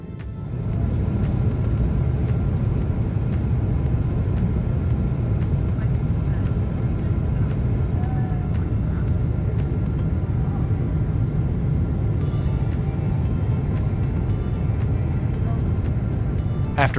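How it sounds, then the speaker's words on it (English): Steady, loud cabin roar fills a KLM Boeing 777-200ER on final approach into Amsterdam Schiphol, a broad continuous rumble with faint ticks and clicks scattered on top, more of them near the end. "With one last turn, we begin our final into Amsterdam's Schiphol Airport."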